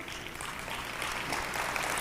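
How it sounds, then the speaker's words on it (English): Steady applause from a luncheon audience at a community tribute event, a broad even wash of many hands clapping at moderate volume throughout. "It is a round of applause"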